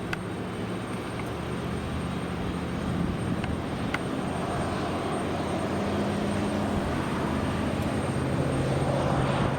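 A JetBlue jet at full throttle rolls down the runway at Raleigh-Durham International Airport, giving a steady, broad engine roar that builds slightly over about ten seconds, heard from a distance with no voices.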